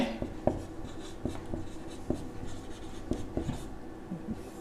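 A pen scratches across paper in short, irregular strokes, close and fairly quiet, while a maths problem is worked out by hand.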